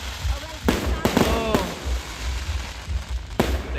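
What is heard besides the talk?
fireworks display at Camaya Coast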